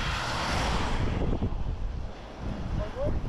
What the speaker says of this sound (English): I feel like the wind has dropped.